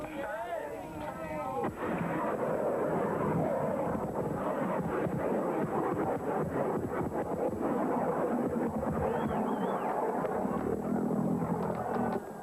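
An amateur liquid-fueled rocket powerful enough to lift a quarter tonne roars off its launch rail, a loud, sustained rumbling blast that sets in after a short moment and keeps going, with faint voices nearby.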